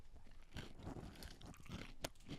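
A milk chocolate crunch bar is bitten and chewed up close, giving a run of quiet, crisp crunching sounds with no talking.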